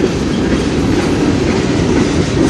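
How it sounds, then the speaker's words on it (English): Loud, continuous roar of a train coming up a hill on the Strathroy Subdivision nearby, with rumbling wheels and a dense clattering texture throughout. "seen the train coming up the hill"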